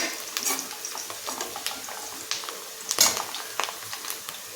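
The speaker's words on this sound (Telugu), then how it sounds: "చూడండి, ఇప్పుడు ఉల్లిపాయ వేగిపోయింది కదండి, క్యాబేజీ వేసేస్తున్నాను." Cabbage tipped into onions frying in a pan, a close crackling sizzle with quick clatters and scrapes of stirring, one sharper burst of sound partway through, and no talking.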